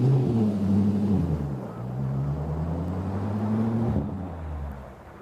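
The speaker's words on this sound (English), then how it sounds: "Little pull up a hill, slipping on the road in 1, 2, 3 gears. Exhaust is pretty much straight piped." A straight-piped car with its mufflers removed pulls uphill on a snowy road, the loud, raspy exhaust droning close, rising in pitch as the engine revs through the gears and dropping off after a shift near the end.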